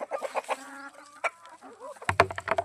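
Backyard chickens cluck and chatter close by as they peck at fenugreek greens, with a short burst of louder squawking near the end.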